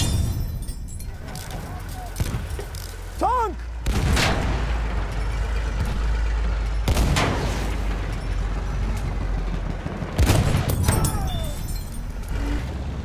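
Machine gun fire and booming blasts in a Battlefield 1 tank battle, loud and continuous with sharp bursts throughout, while voices shout over the combat.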